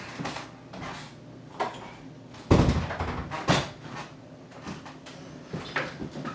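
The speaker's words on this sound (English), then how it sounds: "Let me close this door, Salakia." A door swings shut indoors with a solid thump partway through, followed by a few softer knocks and handling clatters in a quiet room.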